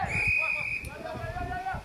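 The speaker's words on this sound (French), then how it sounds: "Et nouvelle faute sifflée par l'arbitre" A referee at a polo match blows a single sustained whistle blast for a foul, clear at first and then fading, with a voice and faint hoof sounds beneath it.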